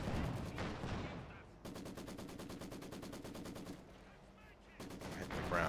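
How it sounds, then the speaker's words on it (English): Rapid gunfire crackles in a Company of Heroes 2 battle, with dense bursts of machine-gun-like shots and sharp reports, loud and close, in short clusters separated by brief lulls. "They must have a sniper out there or something."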